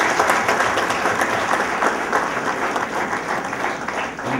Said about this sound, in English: Can we have a loud applause to them?